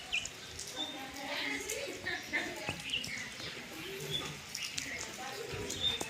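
Pigeons cooing at a home on a rainy monsoon day, soft, fairly close coos and a few chirps spread through the stretch, with light background noise.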